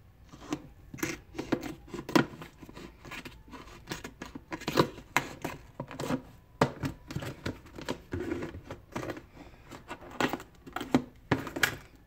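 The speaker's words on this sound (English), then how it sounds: "These aren't the best scissors" Scissors cut repeatedly in quick, close snips and crunches, irregular rhythmic cutting sounds with small rustles between strokes, no talking.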